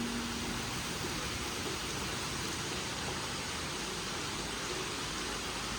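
Steady rain pours down on a village house during monsoon weather, a dense, even hiss of falling water filling the whole stretch with no pauses and no voices.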